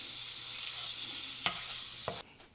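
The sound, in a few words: butter and tallow sizzling in pan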